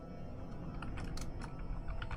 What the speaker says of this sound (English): I apologize for typing